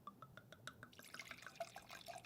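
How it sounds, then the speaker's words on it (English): Wine pours into a glass in a quiet kitchen, starting as a few soft drips and then becoming a faint, continuous trickle and gurgle of liquid filling the glass. "Shut up and pour the wine."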